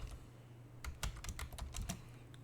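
Typing a Linux command on a computer keyboard: a quick run of light, close key clicks in an uneven rhythm over a low steady hum, with no talk.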